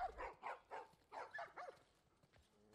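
Puppies barking in The Last of Us Part I, a handful of short yapping barks in quick irregular succession, fairly close, with a quieter stretch toward the end.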